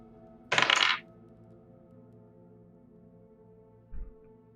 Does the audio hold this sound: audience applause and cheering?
no